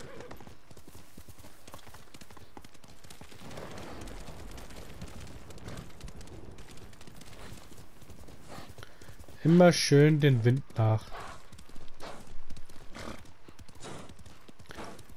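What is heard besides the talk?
horse galloping in a video game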